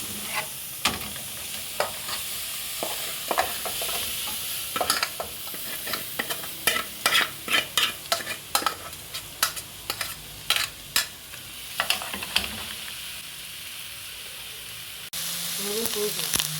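Fried meats for Paraguayan jopara stirred together in one pot, a spoon scraping and clacking in a steady irregular rhythm over continuous sizzling, close and fairly loud.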